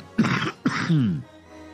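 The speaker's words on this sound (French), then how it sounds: "Excusez-moi, je tousse." A man coughs twice up close, each a harsh burst, with a short throaty rasp after the second cough, in a quiet room.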